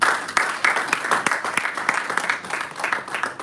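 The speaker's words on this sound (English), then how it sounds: "Round of applause." An audience at a Toastmasters club meeting in a Lagos hotel applauds with dense, steady clapping that continues throughout, moderately loud and close.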